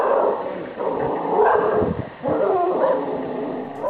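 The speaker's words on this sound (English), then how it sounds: "it's his bark that makes the fox run away with its tail between its legs" A pet dog barks and yips in quick, agitated bursts at a fox, the calls loud, close and repeated over about four seconds.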